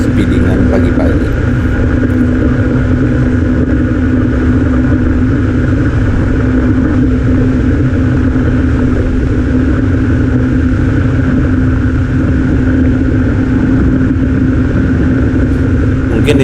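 A Honda ADV 150 motorcycle runs fast on a morning road near Solo, its engine droning loud and steady under heavy wind rush, with a voice talking over it throughout.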